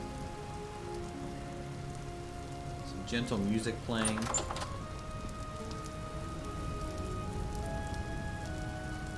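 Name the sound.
rain falling in the video game Vintage Story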